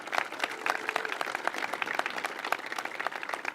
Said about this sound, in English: So let's give him a round of applause also.